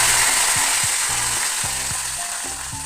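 Mustard seeds, dried red chillies and curry leaves sizzle in hot oil for rava upma, a steady loud crackling hiss with repeated rhythmic scrapes of a spoon against the pan, no voices.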